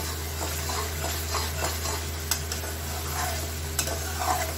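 Tomato and onion masala gravy for paneer butter masala fries in oil in a pan, a steady close sizzle with soft stirring scrapes running throughout and no speech.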